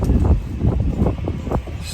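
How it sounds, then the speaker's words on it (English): Outdoor wind in the Philippines buffets the microphone with a continuous low rumble and a few brief gusty pulses, close and fairly loud. "kind of windy out here"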